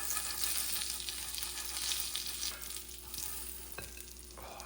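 Bacon frying in a pan, a steady close hiss and crackle of sizzling fat that holds alone throughout, with no voices.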